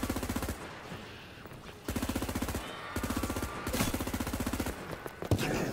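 Heavy automatic gunfire from a big gun in Call of Duty Black Ops III, loud rapid bursts repeating in several long strings with brief gaps between them, close and steady.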